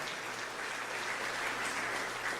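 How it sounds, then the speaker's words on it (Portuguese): Church congregation applauding during a worship service, dense even clapping at a fairly close, full level for the whole stretch, with no voices over it. "Aplauda ele e glorifica ele por isso."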